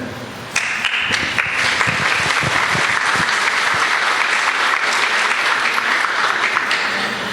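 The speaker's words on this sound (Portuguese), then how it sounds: "as palmas vão tudo para Jesus e para Paulo" An audience breaks into applause at a Spiritist talk on the letters of Paul. Clapping starts abruptly and continues as a loud, even wash of many hands to the end.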